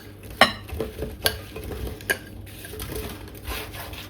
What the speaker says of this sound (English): just spoon the fruit mixture into the bottom